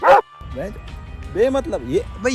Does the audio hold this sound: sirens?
no